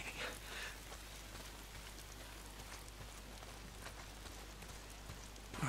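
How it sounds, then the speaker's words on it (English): Steady rain falls in the video game Days Gone, a dense, even hiss of drops on surfaces that holds for the whole stretch with no voices over it. "If it's not the freaks, it's the goddamn rain."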